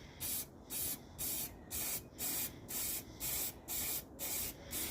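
Aerosol spray paint hissing onto a tumbler in steady repeated bursts, about ten short sprays each lasting roughly a third of a second with brief pauses between, close and clear with no talking.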